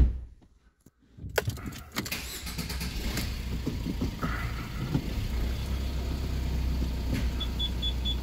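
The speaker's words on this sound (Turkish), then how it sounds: "Aracı kısa bir ileri geri yürüteceğim." After a brief silence, a Fiat Fiorino van's engine idles steadily close by as the van is driven slowly a short way forward and back, with faint clicks and a periodic beeping near the end.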